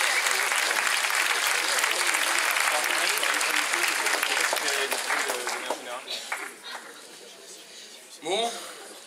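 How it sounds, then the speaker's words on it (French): An audience at a 2016 student show applauds stage manager Philippe with loud, dense clapping that thins out into scattered claps, followed by a brief voice. "On peut l'applaudir très fort."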